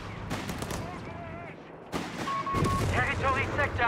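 Heavy assault rifle fire in the Company of Heroes 3 video game, rattling in sustained bursts amid a dense mix of battle sounds, with a voice talking over it.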